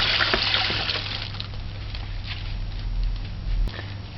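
Water pours into a pot of rinsed brown rice in a home kitchen, a steady close splashing stream with a low hum beneath.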